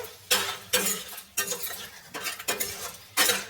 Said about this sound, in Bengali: দেখুন এইভাবে আমি একটুখানি নাড়াচাড়া করতে থাকবো